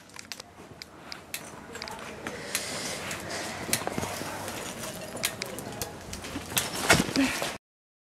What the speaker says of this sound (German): da ist gerade ein Vogel weggeflogen